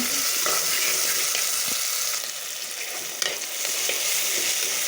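Food fries loudly in a pan, a dense continuous close sizzle with occasional stirring scrapes and small crackles throughout.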